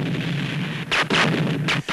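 Artillery and gunfire of war ring out in loud, continuous bursts, with heavy booming blasts layered over sharp repeated shots and no voices.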